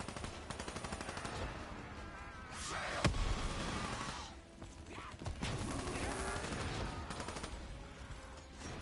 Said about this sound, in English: I really like SMGs.